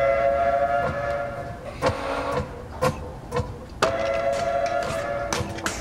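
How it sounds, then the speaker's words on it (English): A clockwork toy train rolls along in the video game Figment, with a steady mechanical hum, whistle-like tones and sharp metallic clanks at intervals, loud and close with no talk. "Train Mark 1, Super Transporter operational."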